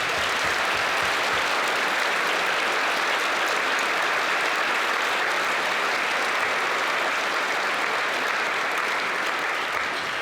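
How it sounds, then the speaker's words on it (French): Sustained, loud applause from an audience at a secondary school end-of-year event, steady and dense for about ten seconds with a faint murmur of crowd beneath, no speech over it. "Veuillez les applaudir chaleureusement."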